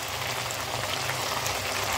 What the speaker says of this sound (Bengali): আদা রসুনের সাথে পেঁয়াজ বাটাটা একটু কষিয়ে নিচ্ছি।